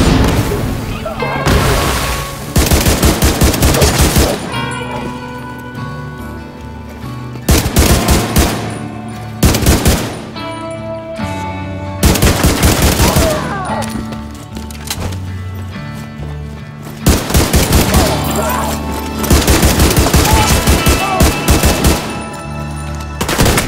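Gunfire from a firefight in the video game The Division 2: repeated loud bursts of automatic fire and shots in clusters over a continuous music and combat bed, with game voices talking in places.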